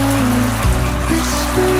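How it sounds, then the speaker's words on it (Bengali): Heavy rain pours steadily and close by during a storm, a dense continuous wash of falling water with no speech over it. "ভীষণই জোরে বৃষ্টি পড়ছে,"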